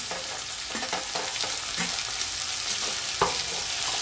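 Tomatoes and coriander sautéing with onions in a pan, a steady close sizzle with repeated scraping stir strokes throughout, no voices.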